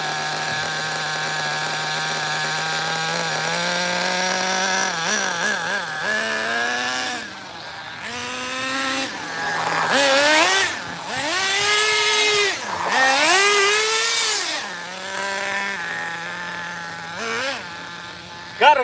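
Two nitro RC car engines, a Redcat and a Kyosho, run loud and close with a high idle, buzzing steadily before repeated revs rise and fall sharply through the throttle blips.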